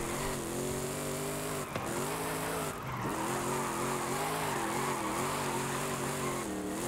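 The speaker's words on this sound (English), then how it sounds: "it's easy to just power slide this thing through corners. And even drift it as well." A heavy wagon muscle car in Forza Horizon 5 power slides through corners, its engine droning and wavering in pitch as the tires squeal and skid almost constantly, with brief lifts between slides.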